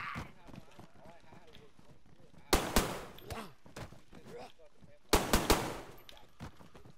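In a video game, two sharp bursts of SMG fire ring out, each a quick cluster of close, loud shots. Excited talk continues through and between them over lighter in-game movement sounds.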